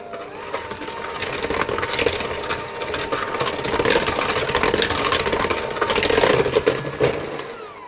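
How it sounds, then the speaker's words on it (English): Eggs with orange zest whisked for a cake batter make a continuous rapid clatter, close and fairly loud, with no talking. "I'm going to whisk those until they're all combined."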